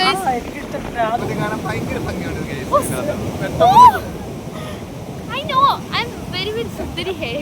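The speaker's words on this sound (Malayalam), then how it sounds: "ഭയങ്കര കാറ്റ് കൊല്ലം ബീച്ച് വന്നിട്ട് അടിപൊളിയായിട്ടുണ്ടല്ലേ" Strong wind buffets the microphone at Kollam beach at night over a steady roar of surf, while people talk and exclaim throughout.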